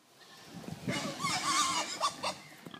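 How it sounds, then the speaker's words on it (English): Pigs grunting and squealing on a farm, a cluster of rough snorts and calls of moderate loudness over roughly two seconds, fairly close. "Ah, it's the pigs."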